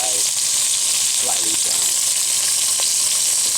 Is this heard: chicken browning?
yes